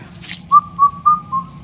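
An outdoor bird call: four short, clear whistled notes in an even rhythm, fairly near and distinct over a quiet low background hum.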